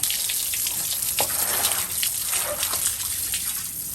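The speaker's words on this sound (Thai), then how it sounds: "ปล่อยน้ำเข้าอีกนิดนึงนะคะ" Water gushes and splashes steadily into a small fish pond being refilled after cleaning, a continuous close running flow with a few brief splashes and no talk.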